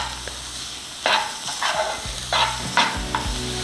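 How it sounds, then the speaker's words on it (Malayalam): Chopped onions sauté and sizzle in a pan for a prawn roast, with a steady fry hiss under repeated scraping stirs, close and fairly loud. "ഇനി ഈ സവാള നന്നായിട്ടൊന്ന് വഴറ്റിയെടുക്കുക."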